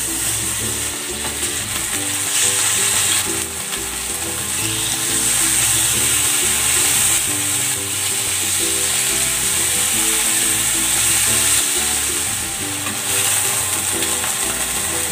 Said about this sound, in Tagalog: Mainit na yung mantika, ipapan-grill ko muna itong chicken.